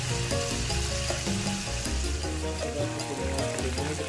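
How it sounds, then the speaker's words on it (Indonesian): Chicken pieces fry in a small amount of hot oil, giving a steady close sizzle with crackling pops and no talk over it. "sekarang kita panaskan minyak lalu kita goreng ayamnya"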